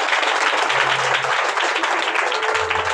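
A church congregation clapping in praise during worship, a dense, continuous burst of many hands applauding together, close and loud throughout.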